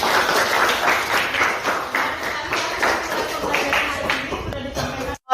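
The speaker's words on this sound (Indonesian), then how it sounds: "Terima kasih, tepuk tangan." Classroom applause during a teacher's lesson, a steady patter of many hands clapping at close range for about five seconds before stopping abruptly.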